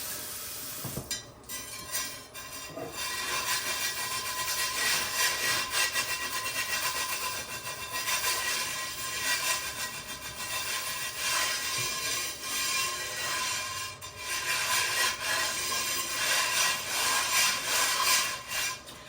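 A chainmail scrubber grinding stuck-on breakfast bits of Spam and eggs off a pan, a steady raspy rubbing in long continuous strokes with brief pauses, close and fairly loud.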